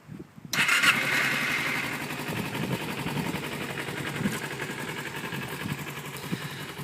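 A motorcycle engine starting: quiet clicks, then a quick crank as the engine catches and revs, then a steady, moderately loud idle that continues unevenly close by, no voices.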